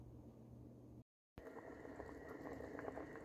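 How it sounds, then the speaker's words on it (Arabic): Lentils boil in a pot of water, a steady close bubbling and simmering texture that runs continuously apart from a brief moment of silence. "انا حطيت العدس هون وهلا عم يغلي"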